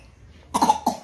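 A child coughs twice in quick succession, close and fairly loud, after a brief quiet moment indoors.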